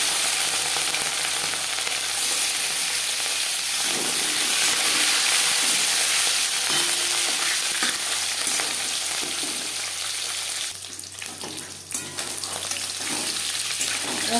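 Marinated rui fish fries in hot refined oil, producing a loud, steady sizzling hiss that continues throughout and roughens slightly toward the end.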